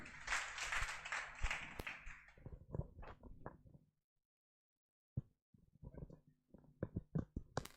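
Audience at a Teacher's Day celebration clapping: a dense burst of applause for a few seconds thins into scattered claps, stops into near silence, then resumes as sparse, uneven claps.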